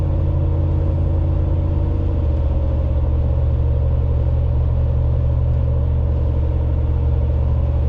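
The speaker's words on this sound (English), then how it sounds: "odd noises other than the sounds of the tires and the sound of the exhaust" A 2009 Hemi 1500 truck drives along steadily, its exhaust giving a deep constant rumble over continuous tire roar, loud and close throughout with no talking.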